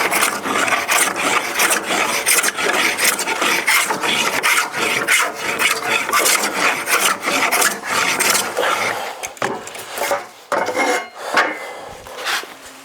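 A woodworking hand plane is sharpened by hand, with steady rapid rasping strokes that keep a close, loud, continuous rhythm before slowing into separate scrapes near the end.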